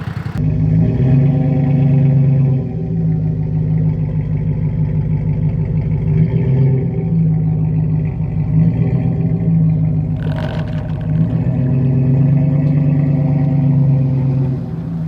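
A truck engine strains steadily at high revs while pulling a stuck vehicle free, a loud continuous mid-pitched drone with a short burst of extra noise partway through, no talk.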